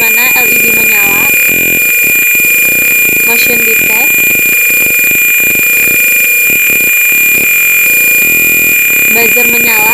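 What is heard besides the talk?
buzzer sounding from PIR motion sensor circuit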